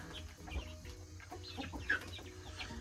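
Feather-footed Brahma chickens cluck and chatter around a farm coop, a scatter of short close clucks and squawks over a low background, with no talking.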